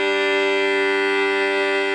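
A violin plays a sustained double stop, two notes bowed together straight off the string, rich and loud at close range for about two seconds with no talking.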